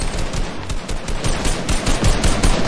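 Rapid automatic gunfire from a Fortnite match, dense bursts of shots rattling continuously and loud throughout with no talking.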